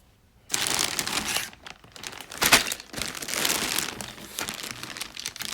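A plastic bag holding parts for a chassis, air filter and wing is crinkled and pulled open during an unboxing, with steady close crackling and rustling that continues after a sharp start.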